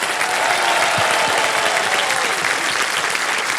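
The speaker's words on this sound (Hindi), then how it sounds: "तालियां बजती रहें इनके लिए" Studio audience on a television quiz show bursts into loud, sustained applause, a dense continuous clapping that fills the room with a faint crowd murmur beneath.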